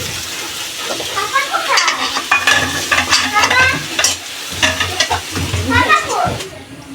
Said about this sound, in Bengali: আলুগুলো কড়া করে ভেজে নেব